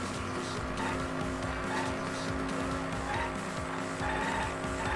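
Car tires skid and squeal in the video game Danganronpa V3, a continuous racing-engine roar with repeated screeching slides over a steady game soundtrack, loud and close throughout.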